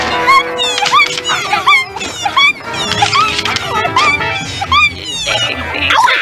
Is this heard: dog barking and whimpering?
yes